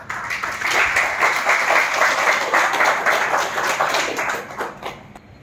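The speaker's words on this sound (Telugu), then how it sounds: "you can clap" An audience at a spiritual lecture in Vijayawada claps together in sustained, dense applause that holds steady for several seconds before tapering off slightly at the end.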